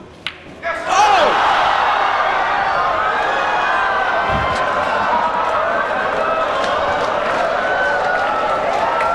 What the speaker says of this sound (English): Listen to the crowd if he makes this one.